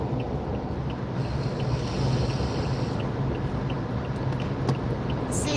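Car driving home, steady road and engine rumble with wind noise filling the cabin, continuous and moderately loud with no talk.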